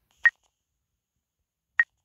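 Phone keypad tones from the video game The Sign: two short, clean electronic beeps about a second and a half apart, each alone against silence.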